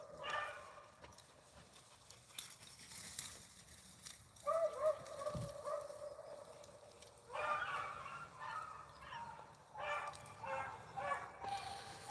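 A beagle hound bays and yelps in the distance as it chases a rabbit along a fence line. The cries come in irregular bursts over light outdoor background noise, and a person talks at times.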